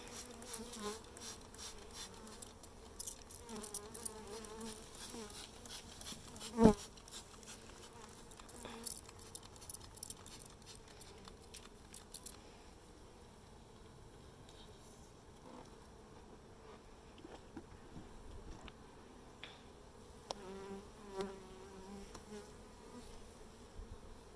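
Dense, agitated buzzing of many honeybees swirling around an opened hive during re-queening, close by, steady with occasional louder passes of individual bees near the ear.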